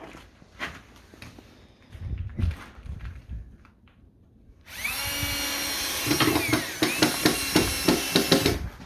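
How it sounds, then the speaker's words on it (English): Power drill driving screws into a wall to mount a shelf. A few knocks and handling noises come first, then a loud, sustained whine with pitch rising and dipping and pulsing bursts as the screws go in. "So we're going to put some screws in."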